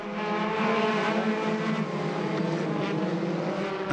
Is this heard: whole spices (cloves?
no